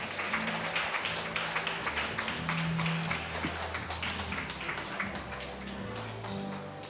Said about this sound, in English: Let's give them a big round of applause and welcome them on stage.